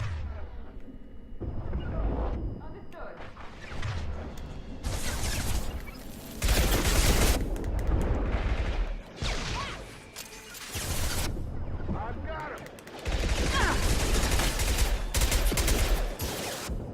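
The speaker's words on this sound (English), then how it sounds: "This SMG is not the best SMG" Submachine gun fire in the Mass Effect 2 video game on Xbox 360 comes as dense, loud automatic bursts with brief pauses between volleys, mixed with impact crashes and game noise.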